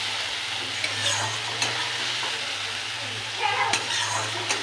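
Cumin, chili, turmeric and coriander powders fry in a pan for a banana-flower kofta curry, giving a steady close sizzle broken by a few scraping stirs, with a low hum underneath.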